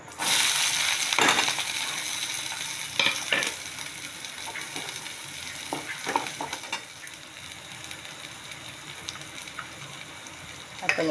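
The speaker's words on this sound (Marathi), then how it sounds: "आपण अर्धा चम्मच राई टाकली." Mustard seeds crackle and pop in hot oil, a loud dense sizzle with sharp spitting bursts near the start that gradually settles into a steadier, softer fizz with occasional pops.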